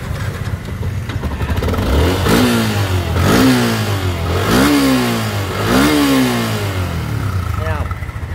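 A Yamaha Exciter 150 motorcycle engine idles, then is revved four times in a row with rising and falling roars, loud and close, before dropping back to idle.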